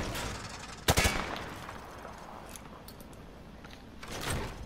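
A single sharp gunshot burst cracks out early in a weapon demonstration against a target behind light cover in Modern Warfare 2 Remastered, followed by a quiet ambient stretch and a fainter swell near the end.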